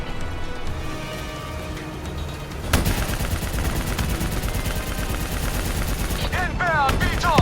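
Sustained machine gun fire in the Call of Duty Black Ops 3 campaign, a dense rapid burst that kicks in hard partway through and keeps rattling loudly over background battle noise, with shouted voices now and then.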